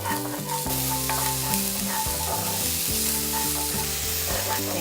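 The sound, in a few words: stir-frying minced garlic and onion in olive oil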